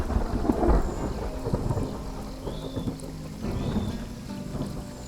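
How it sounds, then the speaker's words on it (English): Wet-season rainstorm in a tropical forest habitat, steady heavy rain hiss with low rumbling thunder rolling underneath, continuous and fairly close, with faint bird calls above. "It's the first time the pups have seen rain."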